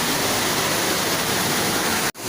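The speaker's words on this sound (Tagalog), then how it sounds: "Pangyan Falls." Pangyan Falls roars as a steady, dense rush of falling water close by, then cuts off abruptly just before the end.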